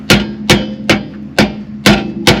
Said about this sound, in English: Next, I'm going to get a big hammer.